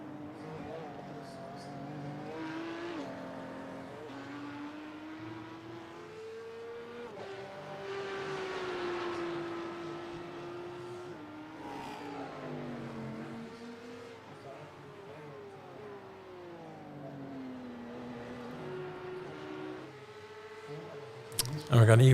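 Porsche race car engines drone and shift pitch through gear changes in a virtual Belcar 24 Hours of Zolder sim race, rising and falling as cars pass, under steady commentary.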